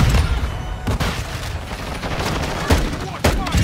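Rapid Desert Eagle pistol shots in a video game, several sharp cracks in quick succession with a few spaced louder bangs, heard under voices and game noise.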